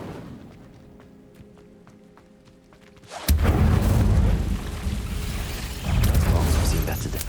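The Incendio fire spell in Hogwarts Legacy ignites with a sudden heavy whoosh and boom after a quieter stretch, then sustains a loud roaring burst that swells again toward the end.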